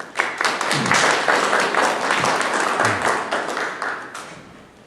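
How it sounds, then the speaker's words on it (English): An audience at a WW2-themed event claps steadily, a dense wash of many hands that swells and then gradually thins, with no voices over it. "please give them a round of applause"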